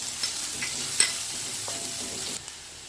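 Chopped onion, ginger and garlic sautéing in a pan for chicken cutlets, giving a steady close sizzle with soft stirring scrapes and a sharper tap around the middle.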